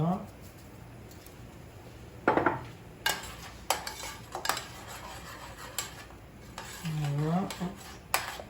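Homemade pizza sauce seasoned with salt and oregano being stirred with a utensil, producing irregular metallic scrapes and clinks against the pot, with a brief voice partway through.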